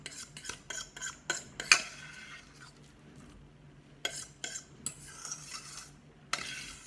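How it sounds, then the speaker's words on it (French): A utensil clinks and scrapes in a bowl while ingredients are worked into flour to form a dough, giving soft, close, irregular taps and stirring strokes. "Et donc après, vous incorporez ça à la pâte, à la farine"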